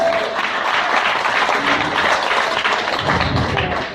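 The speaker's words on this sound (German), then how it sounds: "Sie klatschen wie auf dem Klo, kommt danach getröpfelt" An audience at a German carnival comedy show claps loudly and steadily in a dense, continuous ovation that fades a little toward the end.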